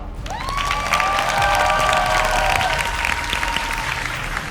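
Studio audience at a street dance competition show stands and applauds, a loud continuous roar of clapping and cheering with sustained music tones ringing over it, filling the whole few seconds.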